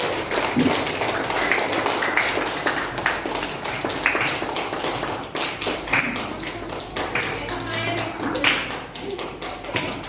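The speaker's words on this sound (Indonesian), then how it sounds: "Tepuk tangan buat kelompoknya Dani" A classroom group claps for fellow students after a presentation, with a dense run of sharp, close handclaps that continues, slightly uneven, for several seconds.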